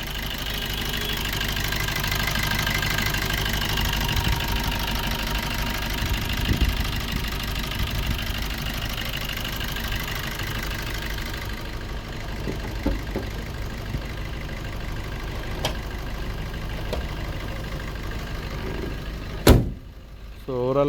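A 2017 Maruti Breeza ZDI Plus diesel engine idles steadily, a quiet low rumble heard close for a long stretch, with a few clicks and a door-like thump near the end.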